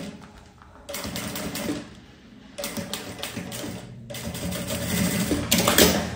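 A sewing machine stitches a seam on a backpack pocket in several bursts, with short pauses between runs; the motor's rapid, loud mechanical whir is close and clear, with no talking.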